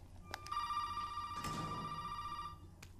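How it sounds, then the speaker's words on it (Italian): A telephone rings faintly in the horror video game Resident Evil 7, one steady electronic tone lasting about two seconds, with a muffled thump in the middle and soft clicks before and after. "Telefono."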